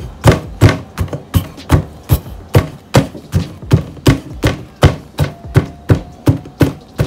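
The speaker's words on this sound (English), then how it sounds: "Want to beat until everything turns to a paste." Jamaican ackees are pounded into a paste with steady, firm thuds, about two blows per second, close and loud throughout.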